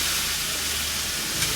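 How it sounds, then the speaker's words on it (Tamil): Small shallots drop into hot tempering oil with mustard seeds and cumin and sizzle loudly. The hiss is steady, close and unbroken for a moment, with no talking over it. "இப்போ வந்து கட் பண்ணி வச்சுருக்க சின்ன வெங்காயம் சேர்த்துடலாம்"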